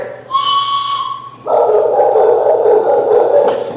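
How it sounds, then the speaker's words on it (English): A shrill whistle blast sounds, then a dog howls in a long, wavering cry right after, both loud and close. "I'll let you do this if you let me blow on my whistle."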